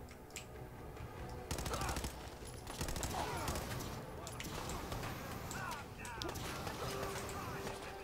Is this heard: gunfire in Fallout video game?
yes